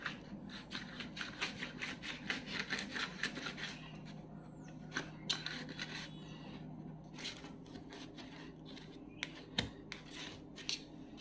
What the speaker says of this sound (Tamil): இதை க்ளீன் பண்ணுறதுக்கு எனக்கு வந்து கத்தி தான் பெஸ்ட்டாக இருக்கும்.